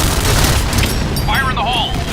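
A grenade goes off in a video game as a loud, dense, rumbling blast that fills the whole moment, while a voice shouts over it.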